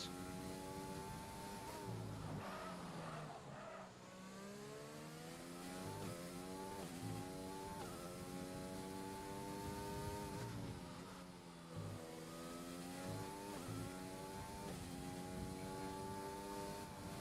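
Racing cars in a video game race at Silverstone, with engines revving high and shifting gears over and over as several cars drone close together, loud and steady throughout.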